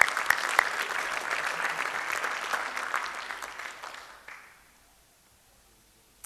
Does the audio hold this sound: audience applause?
yes